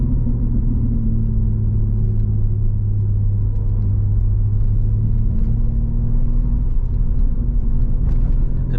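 A BMW M3 fitted with a new exhaust cruises along, its engine giving a steady, deep rumbling drone heard from inside the car, with slight swells in pitch and no talk.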